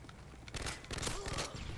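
Gunfire in the game Modern Warfare 3, with a burst of rapid shots and fusillade-like crackle, fairly faint and mixed with game ambience.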